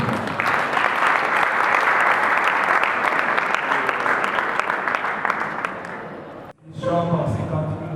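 A church congregation applauding to acclaim the Lord during a memorial tribute service, a loud sustained burst of clapping lasting about six seconds that cuts off abruptly, followed by a short stretch of voices.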